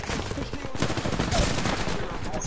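Sustained gunfire in a shooter video game, with loud, dense, overlapping bursts of rapid shots that continue throughout, close and heavy, with a brief faint voice mixed in.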